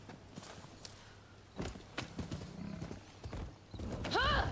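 Horse hooves clip-clop at a steady walking pace in the video game Rise of the Ronin, fairly close and clear, ending with a loud whinny from the horse.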